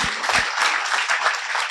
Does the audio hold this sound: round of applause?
yes